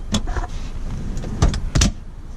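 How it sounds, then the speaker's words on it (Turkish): The sliding seat rail in a 2017 Peugeot 5008 SUV is moved, giving a few short mechanical clacks and a quick sliding rattle in a quiet cabin. "Demin bahsettiğim şey ise şuradaki kızaklı mekanizma."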